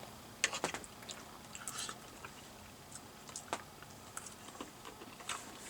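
Someone chewing pasta with Johnsonville sausage and sauce at a camp dinner, with soft, irregular crunchy mouth clicks and smacks, close to the mic and fairly quiet, with no talking.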